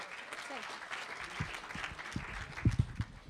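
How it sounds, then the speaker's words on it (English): A crowd at a college summer bridge celebration gives a fairly faint, scattered round of applause, with voices talking over it and a few sharper, louder claps near the end. "Give her a round of applause."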